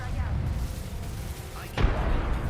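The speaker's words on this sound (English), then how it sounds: "Throwing thermite grenade." A thermite grenade goes off in Apex Legends: a sudden, loud burst of noise cuts through the constant rumble of gameplay partway through, then fades back into a dense noise bed.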